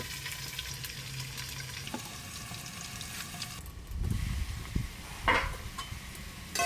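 Potato and carrot pieces frying together in oil without salt or turmeric, a steady soft sizzle with a few scrapes and knocks of stirring partway through, close and unaccompanied by voices.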